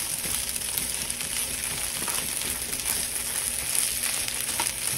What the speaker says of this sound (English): Just use your spoon. Break up the pieces a little bit.